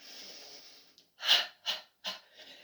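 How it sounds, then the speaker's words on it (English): Deep breaths during a grounding breathing exercise: a few close, forceful exhales and inhales in separate bursts, each about a third of a second, over a faint steady hiss. "Just do another 2 breaths"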